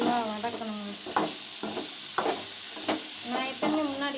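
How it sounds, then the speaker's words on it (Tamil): Okra sautés in hot oil in a pan for a tamarind curry, a steady crackling sizzle broken by several scraping stirs of a spoon, close and fairly quiet. "வெண்டைக்காயை போட்டு நல்லா வதக்கணும்."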